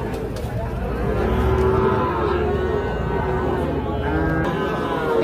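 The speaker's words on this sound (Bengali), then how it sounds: "এখানে একটা দেখছিলাম শাহিওয়াল ষাঁড় বাচ্চা, পাকড়া শাহিওয়াল" A Sahiwal bull calf moos at a busy cattle market, a sustained low bellowing call standing out over steady crowd noise and distant chatter.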